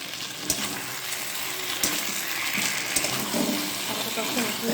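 A spiced potato mixture with tomato sauce frying in a pan, a steady close sizzle with a few sharp clicks and stirring knocks.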